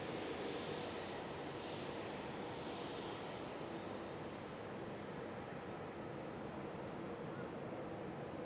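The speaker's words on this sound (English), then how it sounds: "I see another British Airways arriving, Sam. It's a British Airways City Flyer." A British Airways CityFlyer airliner arriving at Schiphol makes a steady, broad jet roar that stays loud and even throughout, distant and unbroken.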